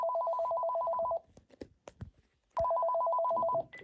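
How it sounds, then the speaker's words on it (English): A Panasonic cordless phone handset plays a rapid warbling ring tone in two bursts, with a short pause of faint clicks and handling noise between them. "And now the handset is just playing the tone."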